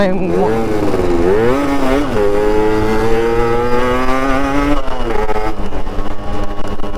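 Several two-stroke motorcycles warm up close by. Loud, buzzing engine revs rise and fall in pitch, overlapping in a continuous racket.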